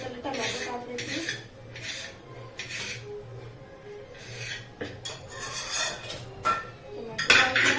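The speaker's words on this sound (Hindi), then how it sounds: "तो फिर मैं पहले टमाटो काट लेती हूँ।" A kitchen knife slices through fresh tomatoes, giving a series of soft, close cuts and scrapes, with a few light clinks of utensils and dishes near the end; nobody speaks.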